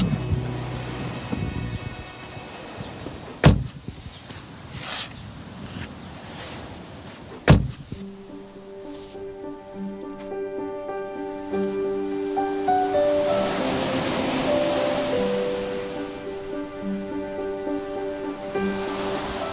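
Sea waves washing onto the beach at Hospitalet de l'Infant, a steady broad surf wash swelling toward the end, with two sharp knocks early on and faint wind over the microphone; no talking.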